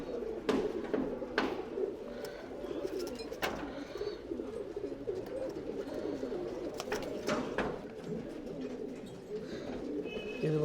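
Tumbler pigeons coo continuously inside a Bangalore loft, a low throaty burbling from several birds at once, moderately near, with a few sharper wingbeat-like knocks and no speech.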